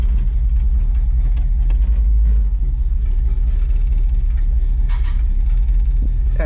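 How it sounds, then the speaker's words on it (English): A 1978 Chevy square body pickup truck engine runs steadily as the truck drives, a loud continuous low rumble with faint intermittent mechanical noises above it and no voices. "So I'm going to try to drive the truck for the first time."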